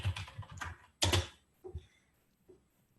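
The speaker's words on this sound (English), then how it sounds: "So let me type something." Keystrokes on a computer keyboard in a short quick burst, then a louder cluster of taps and a few isolated clicks trailing off into quiet, close and fairly soft.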